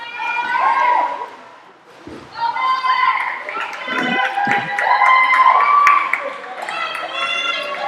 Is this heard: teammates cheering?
yes